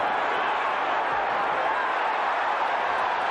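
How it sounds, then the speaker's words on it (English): Crowd cheering in a Mike Tyson boxing video game bout, a steady, dense roar of arena noise at an even level from start to finish, with no single voice standing out. "The crowd loves to see this."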